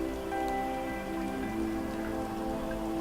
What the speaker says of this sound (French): peut-être est-ce la pluie qui tombe abondamment et vous entendez les gouttes d'eau s'écraser sur les carreaux